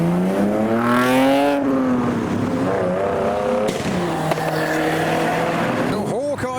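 A BMW E46 leaving a car show revs its exhaust with rising and falling engine pitch, loud and close, with a sharp final blip over busy crowd noise.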